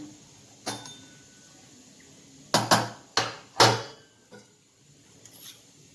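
Garlic cloves pounded in a kitchen while Rajgira leaf bhaji cooks: a sparse run of about six sharp, hard knocks, two or three in quick succession, separated by quiet pauses with no talking.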